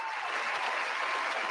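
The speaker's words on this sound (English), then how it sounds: "yes, well deserved applause" Steady applause from a small group, a continuous soft patter of clapping on a live-streamed podcast, with no talking over it.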